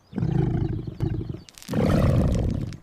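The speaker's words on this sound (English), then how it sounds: "I think it's a lion." A toy lion lets out two loud, close roars, a shorter growl followed by a longer, fuller roar after a brief pause.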